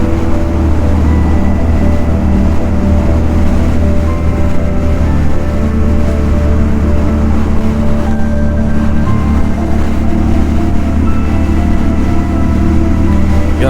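Royal Enfield Super Meteor 650 motorcycle cruising at about 100 km/h in fifth gear, a loud, steady engine drone mixed with heavy wind roar that continues unbroken throughout.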